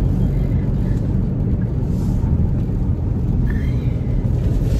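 Low, steady rumble of a vehicle driving, heard from inside with constant road and engine drone and faint higher noises, no talking.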